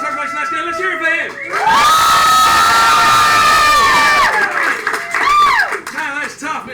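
A game show studio audience cheers, whoops and applauds loudly for a contestant, with high-pitched shouts rising and falling over the clapping in waves.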